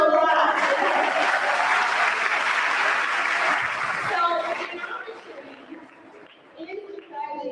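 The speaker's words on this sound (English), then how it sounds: "let's give that student a round of applause." Loud applause from a crowd at a middle school promotion ceremony fills the first few seconds, then fades out as a voice begins speaking.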